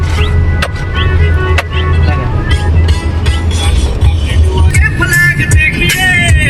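Heavy road traffic with many vehicles on a crowded road near an airport during a festival outing, a continuous low engine rumble with passing cars and a few brief tonal blasts, with voices mixed in.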